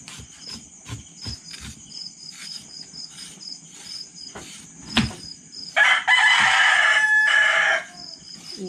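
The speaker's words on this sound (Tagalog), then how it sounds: "Ingay ng manok, ah." Roosters crowing at a rural home in Occidental Mindoro, Philippines, before dawn, with a long loud crow near the end over a steady chorus of crickets and scattered clucking.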